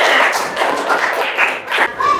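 Classroom applause for a student group, a steady burst of clapping from many hands lasting a couple of seconds, fairly loud and close, with some voices mixed in.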